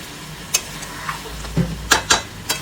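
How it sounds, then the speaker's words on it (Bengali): Biryani masala with turmeric and Kashmiri red chilli powder is sautéed in a pan, giving a low sizzle under several quick, sharp spatula scrapes and clinks against the metal. "আর দিলাম এখানে বিরিয়ানি মশলা। ব্যাস, এবার মশলাগুলো কষাবো।"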